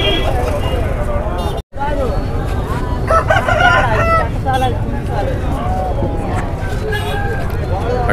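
Roosters crow repeatedly at a busy Sunday country chicken market in Ongole, their loud calls rising over a background of crowd babble and voices.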